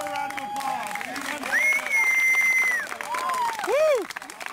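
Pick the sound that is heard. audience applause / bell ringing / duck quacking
audience applause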